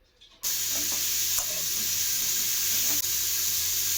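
Chopped raw mango added to hot oil with mustard seeds and curry leaves bursts into a loud, continuous sizzle after a brief quiet start, with a few spatula clinks over the steady hiss.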